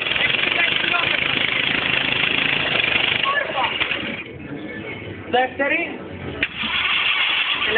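An engine running loudly and steadily in a vocational school workshop, with someone speaking over it near the end.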